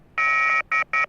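A telephone call signal from the video game YIIK: one longer electronic tone followed by two short ones, clean and isolated against near silence.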